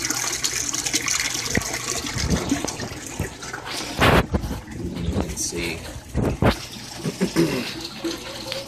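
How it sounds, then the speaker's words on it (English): Water flows out of a plant filter into a dug hole, a continuous rushing and gurgling with louder surges midway, while someone talks over it. "You can see the water coming out of it."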